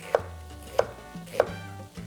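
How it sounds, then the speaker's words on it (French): Knife slicing onion as thinly as possible on a cutting board, three crisp, evenly spaced chops, close and clear over a quiet kitchen background. "on commence à préparer un peu d'oignon, le plus mince possible"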